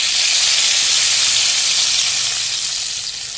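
Hot oil tempered with black cumin seeds, green chillies and turmeric powder sizzles in a loud, steady, close hiss after water goes in, fading slightly toward the end, with no talk.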